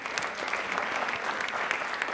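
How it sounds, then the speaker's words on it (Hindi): Dense, steady applause from a quiz show audience cheering a contestant who answered correctly, full and sustained throughout with no talk over it. "इनके लिए एक बार तालियां हो जाए जोरदार।"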